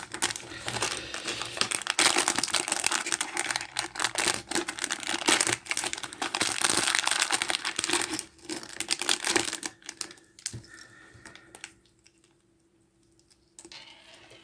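An advent calendar door being opened, its packaging crinkling and crackling in dense, busy bursts that fade to near silence, with a few soft clicks at the end.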